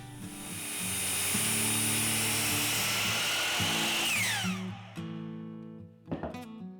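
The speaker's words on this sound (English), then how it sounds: "I'll set up a stop block and cut all the parts to the finished length of 16 inches" A power saw slices wooden bench parts to a finished 16-inch length against a stop block, a loud sustained whine running for several seconds before spinning down, followed by a brief second burst near the end.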